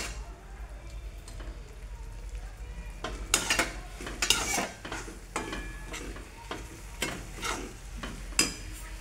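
A spoon stirs torn chapati pieces through thin sugar syrup in a pan, making irregular scraping clinks and soft sizzling, louder strokes bunching toward the middle and end.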